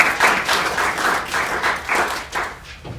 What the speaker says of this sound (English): Round of applause for our low vision group and each and every one of you.